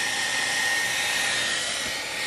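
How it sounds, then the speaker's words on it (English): A hair dryer blowing steadily at close range, thawing things in a camper in winter, a loud constant whooshing hum with no pauses. "The humble hair dryer."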